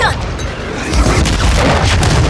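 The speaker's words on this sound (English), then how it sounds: "Stun grenade out!" A stun grenade in Call of Duty MW3 Zombies bursts with a loud, heavy boom that rolls into a dense rumble, close and filling the scene over constant game noise.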